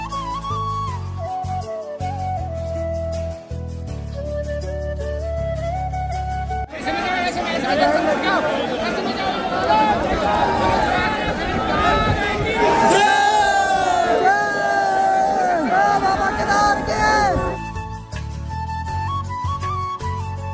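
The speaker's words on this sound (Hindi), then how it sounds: "और ये देखिए जी कितनी ज्यादा भीड़ हो गई यहाँ" A dense crowd packs Sonprayag's main market on the route to Kedarnath, breaking into loud, close chanting, cheering and chatter for about ten seconds. Music plays before and after the surge.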